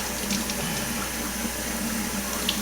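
Water runs steadily from a tap into a jar of sprouting seeds, a soft continuous trickle and splash at moderate level with no talk.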